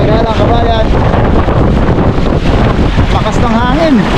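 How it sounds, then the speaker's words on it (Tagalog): Loud, steady wind roaring and buffeting the microphone high on a bridge, with voices talking over it throughout. "Lakas ng hangin."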